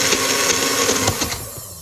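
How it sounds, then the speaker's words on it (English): A blender whirs through cinnamon chaffle batter with a loud, close, steady buzzing drone that thins out and drops away toward the end, with no speech. "this is not mixing too well with this blender"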